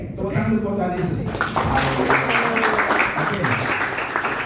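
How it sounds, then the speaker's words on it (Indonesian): A crowd claps at a school Christmas worship service in Jakarta. The applause swells after about a second of speech and continues as a broad wash, with voices still audible over it. "Tepuk tangan untuk Tuhan Yesus"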